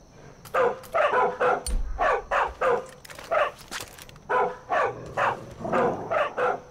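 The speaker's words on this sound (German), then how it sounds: "Da ist noch ein Hund." Dog barking in the video game Far Cry 5, a series of repeated close barks in a steady rhythm, loud and alone with no talk over them.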